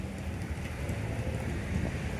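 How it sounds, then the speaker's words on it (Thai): Steady rain falling outside heard from indoors, a continuous even hiss of moderate loudness with no clear individual drops. "ฝนได้ตกลงมาตลอดเลยนะคะ"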